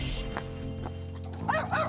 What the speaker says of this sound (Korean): 역시 짖기 시작하는 장군이